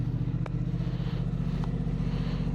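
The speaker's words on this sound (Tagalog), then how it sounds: "Painitin lang natin yung motor." A Honda Transalp motorcycle warming up at idle, a steady low rumbling engine throb with an even pulse, close and continuous, with a couple of faint clicks on top.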